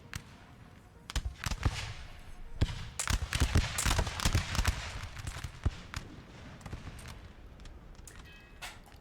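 Artillery and massed musket fire in a Napoleon: Total War multiplayer battle with Russian and French armies, heard as scattered sharp booms and cracking volleys, some close and loud, others distant, over a steady battle rumble.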